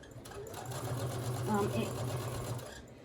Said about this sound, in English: I am going to start sewing this shut